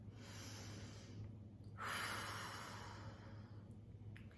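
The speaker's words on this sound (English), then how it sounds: "Take a nice deep breath." One slow, deep breath drawn in close and audible, swelling as a soft airy rush, then easing out over a steady low hum.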